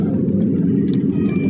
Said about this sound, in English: This is the sound of the plane taking off